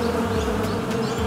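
Steady, close buzzing of a bee, presented as the sound of a mother bee toy from a surprise egg, holding at an even level with no pauses or talk.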